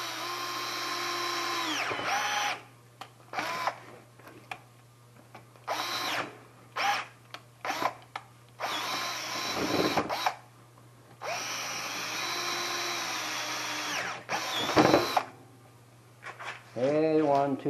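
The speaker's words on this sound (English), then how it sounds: "So we'll drill them to 3/8." A power drill boring 3/8 inch holes for 5/16 bolts through hinge mounts on a 2014 Yamaha Viking enclosure, running in several sustained bursts with steady whine and pauses between, close and loud, with brief low talk in the gaps.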